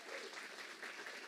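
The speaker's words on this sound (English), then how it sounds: "so give them a big round of applause" Brief burst of audience applause at an evening gig, a dense, even patter of many hands clapping, moderately distant and steady for a moment.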